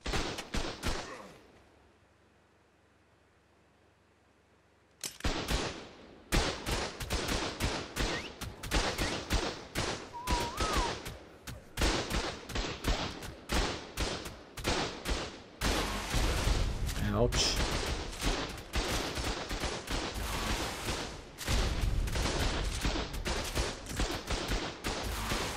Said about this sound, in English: You can see I'm getting shot, then like you hear the turret noise like way later.